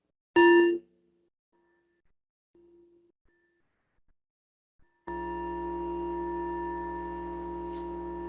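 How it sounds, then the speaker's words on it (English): A single bright bell strike rings out, fades into a long quiet stretch with faint tones, then a steady sustained ringing hum fills the rest. "as we listen to this bell"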